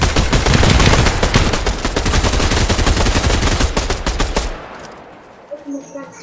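Rapid automatic gunfire from a Fortnite match, loud and dense bursts of shots for about four seconds before cutting off, leaving a quiet tail with faint game sounds.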